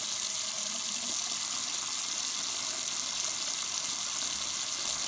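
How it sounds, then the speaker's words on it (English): Water runs steadily from a tap into a bathroom sink, a constant hissing splash with no other sounds. "Turn on the water."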